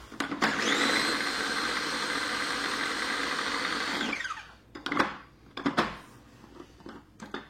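A kitchen blender whirs loudly and steadily for about four seconds while blending a purée of cooked ingredients for Gaumais meatballs made with Orval beer, then cuts off, followed by a few sharp clatters and knocks.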